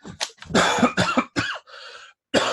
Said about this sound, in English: I was trying to drink before I started coughing.